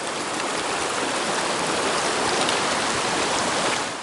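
Waterfall beside a Smoky Mountains backpacking trail, a steady, dense rush of falling water heard close and loud, with no voices over it.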